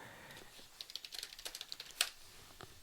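Quick bursts of typing on a computer keyboard while entering a search online, a run of close, crisp key clicks with a louder thump near the end, faint and alone with no talk.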